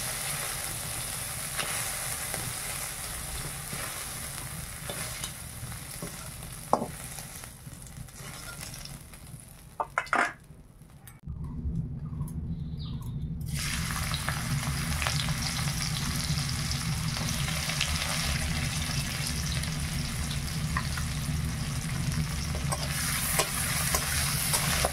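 Onion fries in a pan in a home kitchen, a continuous close sizzle with scraping from stirring. Partway through it drops out briefly, then comes back louder and fuller.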